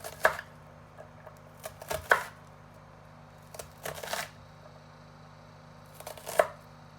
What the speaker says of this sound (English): And we're going to turn it. And we're going to slice it again.